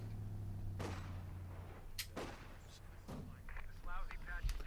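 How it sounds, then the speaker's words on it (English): Mortar fire in the World War II strategy game Company of Heroes 2: several dull distant booms and thuds in a battle soundscape, heard under a commentator's talk. "Mortar still at it."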